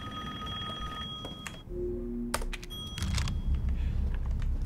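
A phone ringing in the horror game Resident Evil Village, a repeated electronic ring tone that breaks off briefly and then resumes amid clicking keyboard keys and game ambience.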